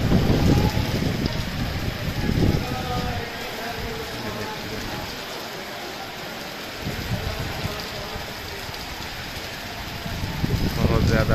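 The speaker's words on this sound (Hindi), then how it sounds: "हवा बहुत ज़्यादा तेज़ चल रही है," Strong wind blows hard during a heavy rainstorm, a dense, steady roar with rain hiss and gusts buffeting the microphone while someone talks.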